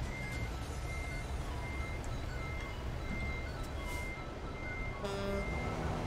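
Steady electronic reversing beeps of a truck in American Truck Simulator, evenly spaced and repeating over a constant engine rumble, no talking.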